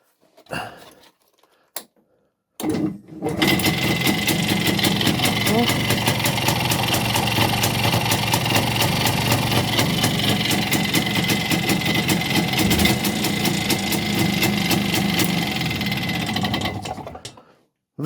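A small Muravey motor scooter engine starts after a couple of pulls and settles into a loud, fast, buzzing idle that runs steadily for about fifteen seconds before cutting off, with someone talking briefly before the start.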